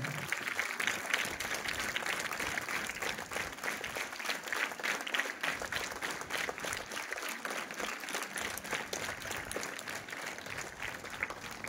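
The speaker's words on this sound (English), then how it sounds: "Please, once again a huge round of applause for them." Sustained applause from an audience at a school event honoring children, a steady dense wash of clapping that continues evenly throughout without pause.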